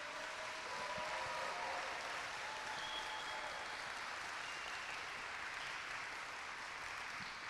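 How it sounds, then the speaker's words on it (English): Parents and guests in the audience at a seventh-grade school awards ceremony clap together in a continuous, even round of applause heard from some distance, fairly soft and sustained without a break. "And parents, while they're facing you, you want to give them one more big round of applause?"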